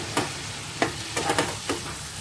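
Beans and carrots stir-fried in a pan, a steady close sizzle broken by several sharp scraping strokes of a spatula at uneven intervals, with no talking.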